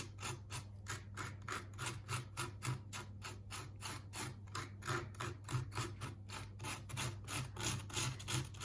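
Hand smoothing of a 1960s sun-ray mirror frame, a steady rhythmic rasping rub repeating in quick strokes, close and fairly quiet, with no talking.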